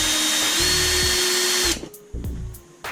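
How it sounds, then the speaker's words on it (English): A handheld power drill whines loudly and continuously while drilling into a custom G920 pedal set, its pitch shifting slightly, then cuts out and gives a couple of short bursts close by with no talking. "Is it even drilling?"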